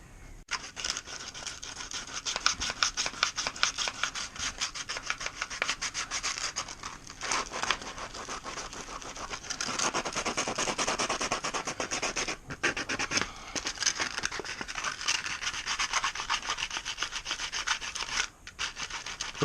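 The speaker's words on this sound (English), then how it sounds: "with a bit of sandpaper, just round these little sharp bits off" Steady, scratchy rubbing of sandpaper rounding off sharp bits on a hard plastic kayak keel guard, close and continuous with brief pauses, no voices.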